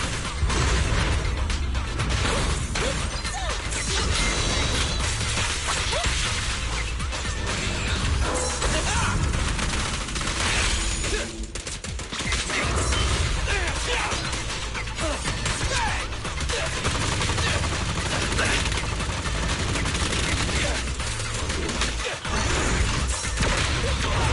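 Gunfire from the video game Zenless Zone Zero, a dense, loud, continuous barrage of shots, impacts and crashes mixed with game effects running nonstop throughout.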